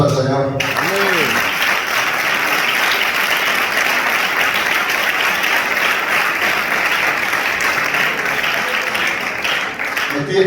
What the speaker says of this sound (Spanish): Puede dar un aplauso al Señor.